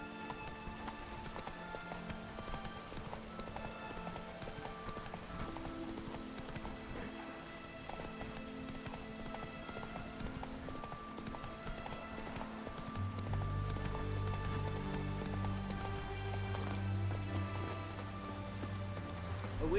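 Geralt's horse Roach gallops in The Witcher 3, hooves drumming in a fast, steady rhythm under orchestral music, with rain-like background texture and a brief whinny.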